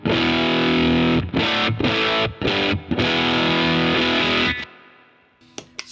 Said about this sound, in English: I have this barefoot button on here in case I want to go to the filthy fuzz side